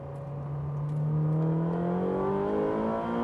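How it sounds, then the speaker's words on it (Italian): A Ferrari 458 Speciale at full throttle on the Fiorano test circuit, its engine revving steadily higher as it accelerates down the straight, loud, close and continuous with rising harmonic tones. "scarichiamo tutta la potenza del motore e tutte le marce fino alla sesta"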